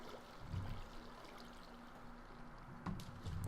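Water flows down a small chute in Minecraft, a faint steady trickling stream with soft splashy bursts, quiet and continuous with no talk over it.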